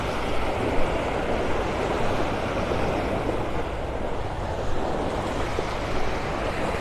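Small waves rolling in on Vanderbilt Beach in North Naples, Florida, on a clear morning with the tide going out: a steady, close wash of surf and breeze that holds an even level throughout.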